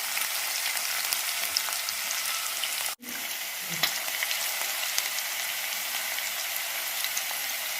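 Green chilies fry in a pan for chana manchurian, a steady dense sizzle throughout with a brief dip near three seconds and a soft clatter just after, no talking.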